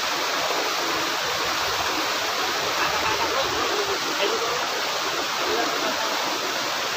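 Steady rushing water of a river flowing over rocks, loud and continuous, filling the whole scene with broadband noise while someone is fishing at the bank.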